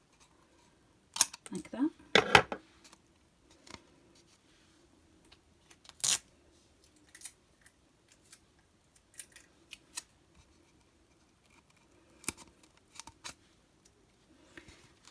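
Scissors snip paper pieces for a night light picture frame, a quick burst of close cuts followed by scattered snips and paper handling, with a brief voice speaking.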